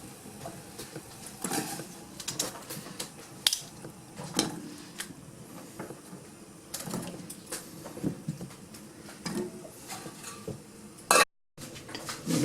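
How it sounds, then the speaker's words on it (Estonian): Boiled potatoes being tossed in a little oil in a pan, with repeated scraping and clinking of a utensil against the pan in an irregular rhythm, fairly close and moderately loud, with no talking. "Ja nüüd ma kallasin natukene õli ja katsun neid kartuleid siin siis nüüd veerestada, püherdada sees."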